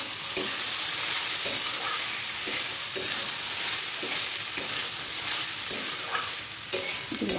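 Cooked rice being stirred and fried in a pan with potatoes for a homestyle fried rice, giving a steady close sizzle with repeated scraping stirs throughout and no talking.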